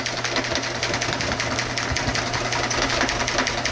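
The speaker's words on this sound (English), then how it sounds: "and all we're doing is just sewing" A sewing machine stitching a fish bag runs steadily close up, its needle hammering in a rapid even rhythm with a low motor hum underneath, no talk.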